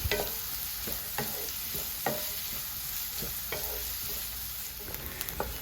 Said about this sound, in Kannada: 3 ಈರುಳ್ಳಿನ ಚಿಕ್ಕದಾಗಿ ಕಟ್ ಮಾಡಿ ಹಾಕ್ತಾ ಇದ್ದೇನೆ. ಒಳ್ಳೆ ಗೋಲ್ಡನ್ ಬ್ರೌನ್ ಬರೋ ತನಕ ಫ್ರೈ ಮಾಡಿಕೊಳ್ಳಿ.